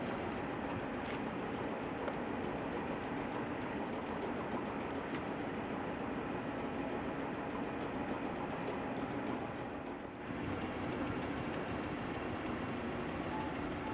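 Classic streetcar pulling away at the Baltimore Streetcar Museum, a faint steady electric motor hum with low rumble and rolling noise, continuous and fairly distant.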